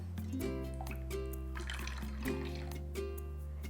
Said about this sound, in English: let's add your water